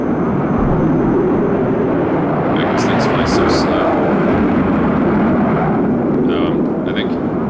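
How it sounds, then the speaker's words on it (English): A heavy, continuous roar of an aircraft engine passes overhead in the war strategy video game WARNO, loud and rumbling throughout, with a few brief higher-pitched bursts of battle effects cutting through. "And I do hear a plane."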